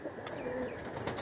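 Pigeons of the Andhra red-eyed type give a brief, low, throaty coo, close and fairly quiet, with a few faint rustles around it.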